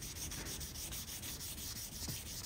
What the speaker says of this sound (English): Just with some 800 then 1200 grit sandpaper.